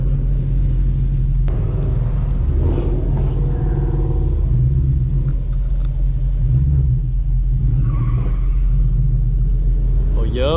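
Many cars at a rally rumble in a heavy, continuous low drone, with an engine swelling in revs now and then while people talk over the noise.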